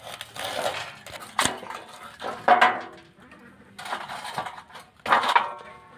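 Fresh cauliflower is cut up by hand, with a handful of crisp snapping and crunching cuts spaced out over a few seconds, close and fairly quiet.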